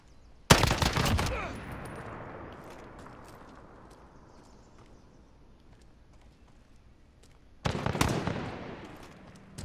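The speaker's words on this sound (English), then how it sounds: "Why are you shooting like this?" Bursts of video game gunfire crack out in two loud volleys, one at the start and another near the end, with a quieter stretch of game ambience between them.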